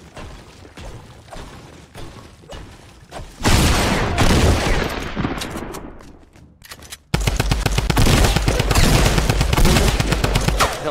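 Rapid gunfire from a shooting video game, first scattered shots, then a loud sustained burst that tails off, and finally a steady, fast machine-gun-like stream of evenly spaced rounds, close and loud with no talk.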